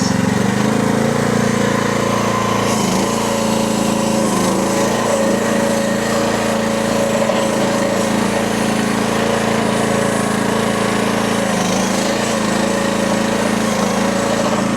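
Small engine on a cheap SDLL30 IRL30 mini skid steer revving up to high RPM, a loud, steady buzzing drone close by that holds for the whole stretch with slight rises in pitch.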